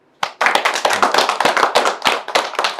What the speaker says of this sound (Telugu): అందరూ కూడా క్లాప్స్ కొట్టాలి